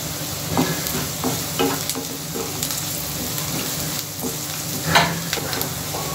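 Green chillies go into browned onions frying in a kadhai for chicken, a close, continuous sizzle with sharp scraping and clinking from stirring.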